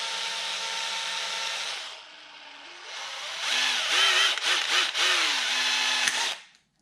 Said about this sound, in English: Maybe wood drill bits aren't the best for plastic.